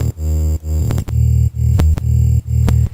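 A gritty, distorted synth bass plays a rhythmic pattern of short punchy notes, with crunchy high-end grit over a heavy low end.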